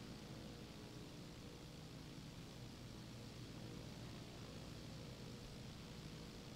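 Steady, dense drone of a Cessna 152 propeller plane engine in the X-Plane 11 flight simulator, a constant broadband roar with no break that stays at even loudness throughout and carries no talk.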